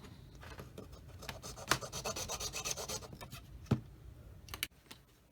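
A hobby knife cuts through the plastic buckle on a model tank track, giving steady close scraping and rasping strokes with a few sharper snaps in between.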